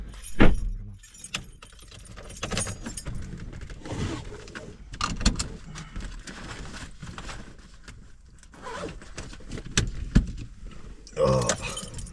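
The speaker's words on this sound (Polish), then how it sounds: "Daj klucze." Keys jangle briefly as they are handed over at a car during a Polish WRC rally, metallic clinks close by amid shuffling and handling noise, with people talking around them.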